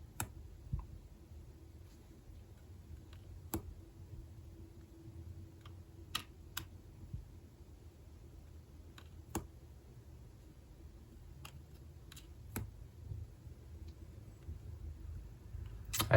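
Tarot cards from a reproduction 1760 Conver Tarot de Marseille deck are shuffled, giving soft scattered clicks and taps at irregular intervals over a low background hum, close and fairly quiet.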